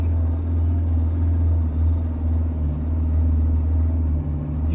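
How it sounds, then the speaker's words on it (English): A car with a gearbox slipping from lack of fluid strains along with a deep, steady engine drone and heavy low rumble, continuous and close, with no talking. "God, this is like a slipping clutch."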